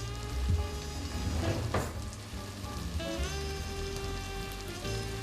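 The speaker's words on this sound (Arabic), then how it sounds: "اسا بدي احط مرقة على المنسف على الرز" Broth is poured over the rice of a mansaf, making a close, continuous splashing and pattering wash that swells and eases a little. No one speaks.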